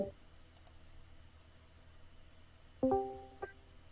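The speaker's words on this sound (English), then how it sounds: "I keep clicking on the wrong one." A computer mouse gives two or three crisp, close clicks in quick succession during a video game, against a quiet room hum.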